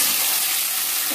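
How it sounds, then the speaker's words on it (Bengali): Pumpkin slices fry in hot oil in a home kitchen, giving a steady, close, broadband sizzle that holds evenly through the short moment with no voices. "সেজন্য প্রথমে আমি কুমড়ো ভাজাটাই চাপাচ্ছি।"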